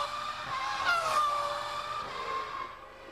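Formula One race cars at the 2000 German Grand Prix, a loud engine whine with rising and falling pitch as a car sweeps past, steady and close, with no voices.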